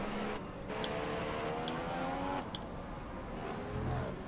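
Formula One racing car in F1 2015 on the Malaysia circuit, engine note falling in steady downshifting sweeps as it brakes into a corner, loud and continuous with faint ticking clicks and no talk.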